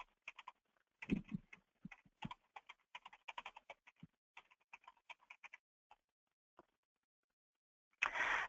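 Fingers typing a password on a computer keyboard, irregular clusters of light close key clicks with gaps and a few isolated taps, ending in a brief louder rustle.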